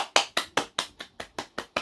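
Hand claps, nine crisp sharp strikes in a steady, even rhythm, close and clear with no voices.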